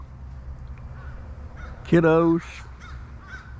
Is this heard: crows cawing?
yes